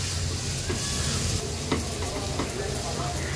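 Spices and ginger-garlic paste cooking with onions in oil over a low flame, a steady close sizzle with soft stirring scrapes, briefly and faintly.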